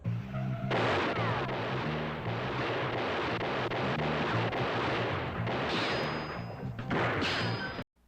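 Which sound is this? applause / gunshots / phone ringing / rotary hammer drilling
gunshots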